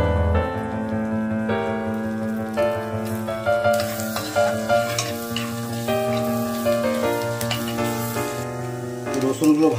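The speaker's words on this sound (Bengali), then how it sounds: "এর উপরে যে আমরা রসুনটাকে কুচি করে রেখেছিলাম ওটা আমি দিয়ে একটু ভেজে নেব।" Chopped garlic frying in hot butter in a wok: a steady close sizzle with stirring that runs under continuous, prominent background music.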